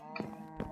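A Minecraft cow on a cow farm gives a short, low moo in two quick pulses, clear and close.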